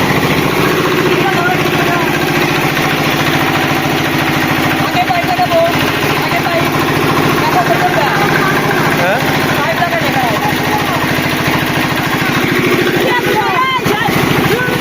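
A water pump machine engine runs steadily nearby, a loud continuous chugging drone used for drawing up water, with a voice speaking intermittently over it.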